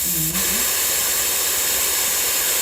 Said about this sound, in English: That sounds like frying food.